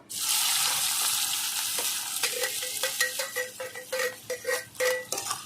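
Chopped onions hit hot oil already holding whole cumin, cinnamon, cardamom, cloves and bay leaf, producing a loud sizzling hiss that settles into a sputter with repeated spoon scrapes and clinks against the pot.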